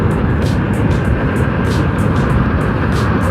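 Honda Click 125i scooter ridden at highway speed, a loud continuous roar of wind buffeting and road noise with a steady engine drone underneath, no voices.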